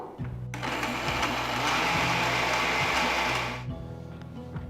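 A mixer grinder whirs loudly while grinding horse gram with garlic, cumin and tamarind into podi. It runs as one steady, dense burst of about three seconds, with a short start and a sudden cutoff. Low hum continues around it.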